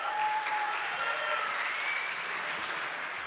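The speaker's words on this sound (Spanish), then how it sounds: "Un aplauso para Eva Olivares, por favor." Audience applause at a Trafffic Day presentation, a steady wash of clapping from a crowd, moderately loud and even throughout, with no voices over it.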